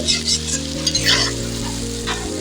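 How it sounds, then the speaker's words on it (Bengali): Banana pieces fry in a pan of oil and are stirred, giving a close, continuous sizzle with scraping sounds, heard under a steady music bed. "আমি এইভাবে নাড়াচাড়া করে দু থেকে তিন মিনিট ভেজে নেব"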